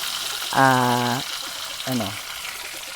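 Lemongrass frying in hot oil gives a steady crackling hiss throughout, with a brief voice speaking over it twice.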